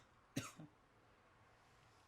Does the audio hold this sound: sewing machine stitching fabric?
no